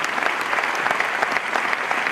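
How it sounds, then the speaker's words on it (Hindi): An audience at a celebration event bursts into dense, sustained applause, many hands clapping together at an even level throughout with no talk over it. "एक जोरदार ताली दोस्तों।"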